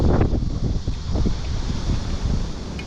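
Steady wind blowing outdoors near a river fishing spot, a loud continuous rush with gusty buffeting against the microphone throughout.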